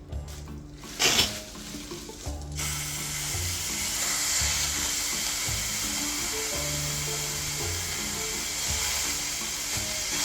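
A piece of beef is dropped into a hot skillet and sizzles steadily, a broad hiss with pan clatter and bumps at the start, continuing loud and even throughout without talk.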